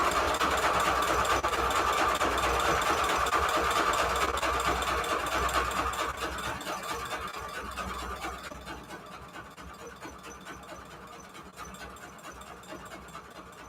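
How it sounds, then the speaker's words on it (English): A sewing machine running steadily as it stitches pages for a junk journal, a fast even mechanical whir and clatter that gradually slows and quiets toward the end, with no talking over it. "It's just not sewing correctly for some reason."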